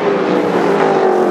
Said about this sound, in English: He's going to go deep into braking zone down in turn one.